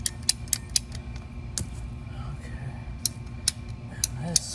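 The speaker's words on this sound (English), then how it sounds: "ratchets down. It's a 1-inch pipe, so it's about as big as this pipe cutter will handle" A pipe cutter ratchets around a 1-inch pipe, giving a series of sharp, close clicks in short irregular bursts over a low background hum, with brief creaks between them and no talking.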